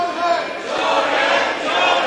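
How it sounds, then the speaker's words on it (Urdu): Members of parliament chant slogans together during a no-confidence vote against the prime minister, a loud, sustained crowd roar of many voices that swells and dips without a break. "نعرے بازی نہ کریں نعرے بازی نہ کریں بالکل"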